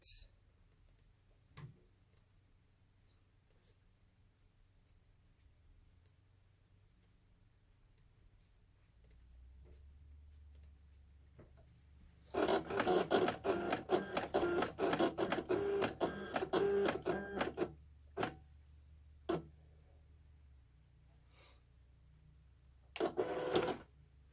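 A Silhouette Cameo cutting machine makes a test cut on cardstock, starting with faint motor whirring, then a burst of rapid mechanical clicking and buzzing lasting several seconds, followed by a few isolated clicks, with a person talking at times.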